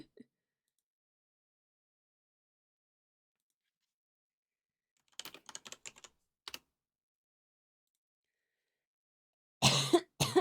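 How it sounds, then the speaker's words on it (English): A person coughs once, loud and close, near the end, after a long quiet stretch broken by a few light tapping clicks. "Yes, still coughing."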